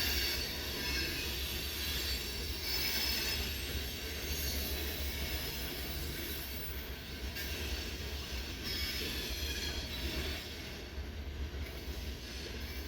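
A freight train rolls past at night near a rail yard, a loud continuous rumble of wagons with high wheel squeal running over it throughout, fairly close and with no voices.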